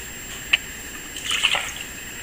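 Hot beef broth is ladled into canning jars: a quiet drip and a soft splash, then a brief run of faint liquid pouring, heard up close with no talking.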